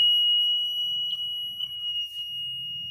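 Motorcycle flasher unit reinstalled and beeping, a steady high-pitched electronic tone held continuously, fairly faint over low background rumble.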